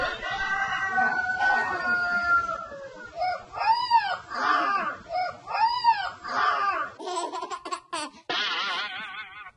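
A rooster's crow is followed by a puppy repeatedly howling and yowling in imitation of it, the dog's calls rising and falling in several wavering bursts, close and fairly loud, with no speech.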